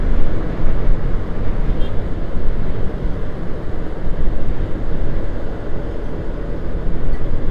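A motorcycle cruises at about 60-70 km/h along the Pantura highway in Indonesia during holiday traffic, a loud continuous roar of wind and road noise from the rider's position with no breaks.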